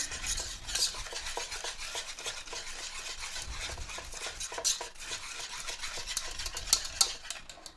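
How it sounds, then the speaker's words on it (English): A utensil scrapes and stirs quickly through coconut cookie bar batter as eggs are mixed in, giving a steady rhythmic rasp against the bowl with a few sharp clinks. The sound is close, and no one speaks. "we're going to mix it quickly because we not want it to scramble"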